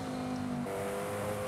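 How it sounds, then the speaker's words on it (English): Bugatti W16 engine in Forza Horizon 5 racing game, a steady loud droning engine tone that steps to a new pitch partway through as the gear shifts, heard alone without talk. "I can hear that W16"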